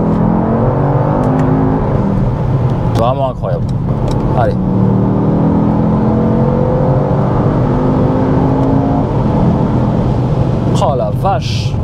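A Mercedes-AMG GT 63 S E Performance in sport mode accelerates hard, its loud engine roar climbing through rising revs with sharp shift crackles at intervals, close up from inside, while someone speaks French over it.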